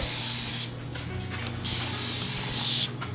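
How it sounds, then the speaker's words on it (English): Fine mist from a spray bottle wetting curly hair, a series of close, steady hissing bursts with brief pauses between them. "It's just this fine mist to where I get a little bit of moisture on my hair to where I can restyle it"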